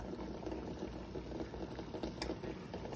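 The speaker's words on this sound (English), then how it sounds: "I have some eggs, two eggs boiling" Steady bubbling of water boiling two eggs in a pot, a continuous low rolling churn with no talk, close and moderately loud.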